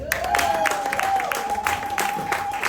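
A church congregation applauds and cheers at a special family worship service, with dense, steady clapping throughout and a sustained musical tone held underneath.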